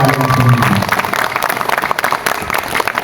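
School audience at a lively religious lecture event breaking into applause, dense and fairly loud clapping that holds steady after a brief spoken bit at the start.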